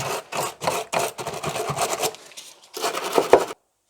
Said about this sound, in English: I'm going to start by just cleaning this up and giving it a scrub